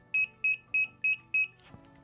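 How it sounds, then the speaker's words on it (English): A Cartell CW-SYS gate automation sensor puck emits five short, evenly spaced electronic beeps in quick succession, clear and close, followed by a faint low click. "you can trigger the puck and you'll get 5 confirming beeps"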